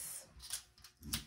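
Scissors snip through a paper sewing pattern for a wrap dress sleeve, a few quick close cuts in a little over a second with no talking.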